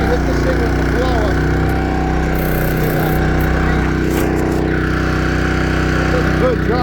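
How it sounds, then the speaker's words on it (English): A loud, steady engine-driven blower roars close by without a break while it clears debris out of pavement cracks, with a rotary broom in use nearby. "once you hit this thing with the blower"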